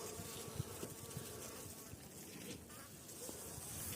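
A honeybee colony under the hive top in winter keeps up a steady, close, droning buzz, with a few soft knocks and handling noises mixed in.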